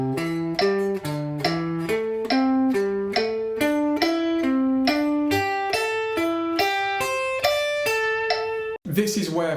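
Guitar playing a pentatonic skip exercise, ascending and descending pairs of notes in an even, steady run of single plucked notes at 70 bpm alongside a metronome click, clear and close, ending with a brief strum-like burst.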